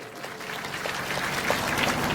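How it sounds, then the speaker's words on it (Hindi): Crowd applause at a political gathering in Rajasthan, a steady wash of clapping from many hands that continues throughout at moderate loudness. "उनके लिए भी आप जोरदार तालियां बजा दें।"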